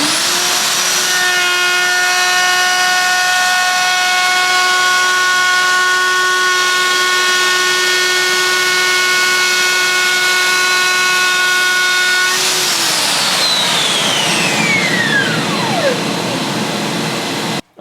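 A Festool OF-2200 router spins at full speed and cuts into wood, a loud steady high whine with a constant cutting roar beneath, then powers down near the end with a falling pitch as the motor spins to a stop.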